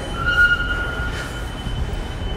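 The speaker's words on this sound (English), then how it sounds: "Let's see if I made this train." Subway train arriving through a tunnel beneath New York near the Brooklyn Bridge: a steady rumbling roar with a thin metallic wheel squeal rising briefly, continuous and fairly close, no talking.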